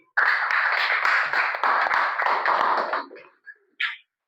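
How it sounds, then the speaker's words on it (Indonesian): A classroom of students applauds a student group for about three seconds, with close, bright, rapid clapping that stops abruptly, followed by a couple of brief stray sounds. "Tepuk tangan untuk kelompok C."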